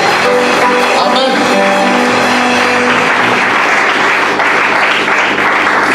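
A church congregation applauds loudly and steadily throughout a worship service, a dense wash of clapping hands that fills the whole stretch.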